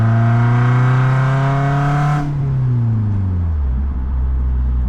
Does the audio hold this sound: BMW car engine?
yes